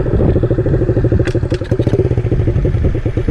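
A pit bike's small engine running close by with a rapid, lumpy idle putter that keeps chugging unevenly, loud and near, with a few clattering knocks and no talking.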